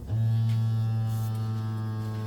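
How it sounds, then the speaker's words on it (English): A vacuum sealer runs a steady, loud motor hum while sealing a bag of dehydrated tzatziki mix, the drone holding constant throughout without talk. "you can go ahead and vacuum seal. Just like this."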